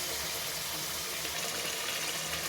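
Water poured steadily into a pan of pabda fish curry, a continuous broad gushing rush that stays even and close throughout.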